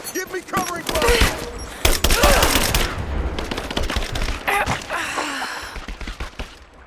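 Rapid bursts of automatic gunfire crackle loudly and nearly continuously in Rise of the Tomb Raider, with sharp cracks layered over a rumbling battle din and shouted voices in the midst of the shooting.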